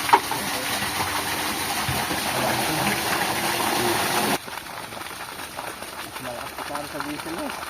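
A solar-powered water pump gushes water steadily on a farm in Sta Rosa, Nueva Ecija, with dripping mixed in; the flow is loud at first, then drops to a quieter trickle as voices talk over it.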